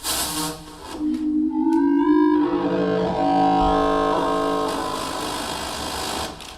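Buzzy synthesized tones sliding upward in pitch, then settling into a harsh, noisy sustained drone with rich overtones, loud and alone.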